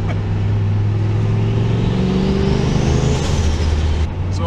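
An LS-engined car with a BorgWarner turbo drives along, its engine droning loud and steady at close range, the pitch climbing gradually as it pulls before easing off near the end.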